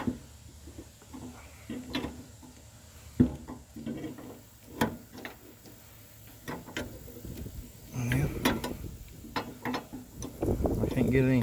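A wrench ratchets in short clicking strokes against a rusty bolt on a Ram truck, close and fairly quiet, with metal knocks and creaks between efforts, growing busier toward the end while a person talks at times.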